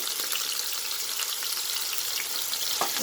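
Tomatoes frying in a pan for upma, a steady close hiss of sizzling oil with a few faint stirring scrapes, alone without talking.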